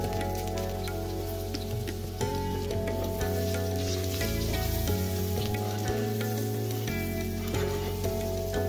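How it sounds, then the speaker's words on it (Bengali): Potatoes fry in mustard oil with salt and turmeric in a kadai, with a continuous crackling sizzle and a low background hum throughout. "লবণ হলুদ দিয়ে আলুগুলো একদম লাল করে ভেজে তুলে রাখবো"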